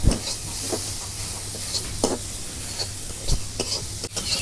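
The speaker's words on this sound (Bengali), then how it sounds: "তেলের মধ্যে মশলাগুলো ভালো করে ভাজা নেই।" Salt, turmeric, radhuni, chili and cumin fry in hot oil over a clay stove, making a constant close sizzle broken by sharp scraping clicks of a stirring spoon.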